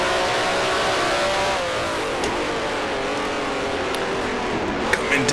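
A 1968 Formula One car in the Grand Prix Legends racing game drones at high revs, the engine note sliding through pitch changes as it slows and climbs again, loud and continuous.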